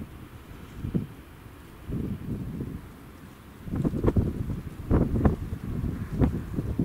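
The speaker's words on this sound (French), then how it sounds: "Il y a un petit peu de vent quand même." Wind gusting and buffeting against the microphone, rising and falling in uneven bursts, with a rustling, blustery texture and no voices.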